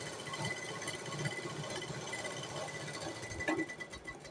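A sewing machine runs a press stitch along a button placket, a faint, steady mechanical whir that continues without pause.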